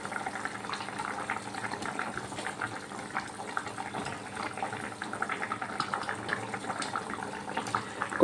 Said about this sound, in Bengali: ঝোলটা তো আমি বেশ অনেকক্ষণই ফোটালাম, ঝোলটা ফুটে গেছে।